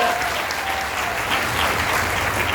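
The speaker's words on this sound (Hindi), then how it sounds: "एक बार जोरदार तालियां सबके लिए।" A crowd claps steadily and loudly, dense continuous applause with no pauses.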